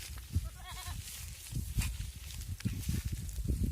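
Beetal F1 and Assam hill goats on a farm give a short, wavering bleat early on, followed by steady shuffling hoof steps and rustling close by, with no talking.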